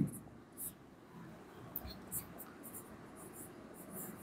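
Handwriting during an English grammar lesson, faint scratchy strokes at irregular intervals under quiet speech.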